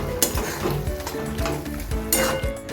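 Cashews being stirred into carrot halwa in a pan make soft scraping and clinking spoon strokes that come in a few uneven bursts against a low sizzle, heard up close.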